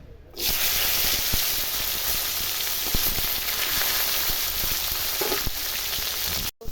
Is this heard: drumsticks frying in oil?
yes